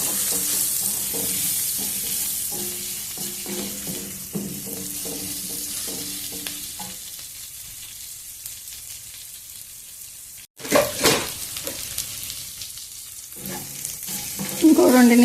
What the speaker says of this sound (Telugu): ఇప్పుడు ఫ్రై చేసుకున్న క్యాలీఫ్లవర్ని కూడా వేసేద్దాం ఇది కూడా కొద్దిసేపు ఫ్రై చేద్దాము